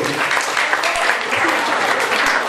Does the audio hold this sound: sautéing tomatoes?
no